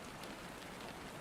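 Steady rain falls with an even, dense hiss of drops on surfaces, constant and soft throughout with no voices.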